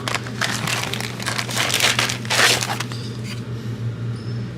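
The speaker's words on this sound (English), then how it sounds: "A little plastic bag for protection," Ziploc plastic bag holding a car ECU crinkling and rustling close by, a steady run of crackly handling noise with a few louder crumples, no talking.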